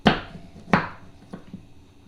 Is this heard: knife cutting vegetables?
yes